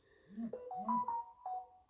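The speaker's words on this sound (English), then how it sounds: "That's my phone going as well." A mobile phone rings indoors during a knitting session, giving a short melodic ringtone of rising and falling notes that repeats a few times over about two seconds, moderately loud and close.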